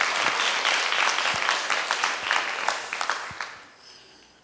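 A church congregation at a Korean Sunday service breaks into warm applause, dense overlapping claps that hold steady and then thin out and fade toward the end.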